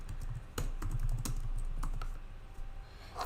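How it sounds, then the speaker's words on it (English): Quiet keystrokes patter on a computer keyboard in an irregular run of soft clicks, close by and faint, with no talking over them. "So you typed chemistry year 10"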